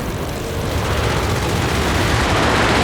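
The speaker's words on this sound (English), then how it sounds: "Got the strafe coming in under their smoke though." Aircraft strafing run in Company of Heroes 3: a dense, continuous roar of rapid gunfire blended with engine noise, loud and unbroken throughout.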